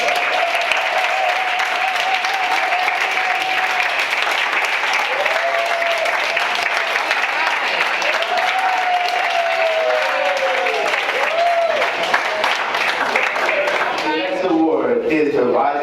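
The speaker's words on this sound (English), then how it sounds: "Please give your round of applause to Darius Mullins." Applause at a family banquet award presentation, steady clapping from the gathered guests lasting many seconds while a voice speaks over it, with a few louder bursts near the end.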